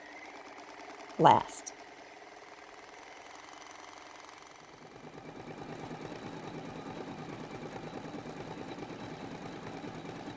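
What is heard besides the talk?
sewing machine stitching fusible applique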